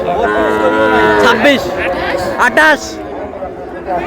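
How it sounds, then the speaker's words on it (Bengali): Bull calves lowing at a cattle market, several drawn-out moos rising and overlapping close by, with a busy crowd murmuring and people talking in the background. "ষাঁড় বাচ্চা, বেশ সুন্দর বাচ্চা, ষাঁড় বাচ্চা"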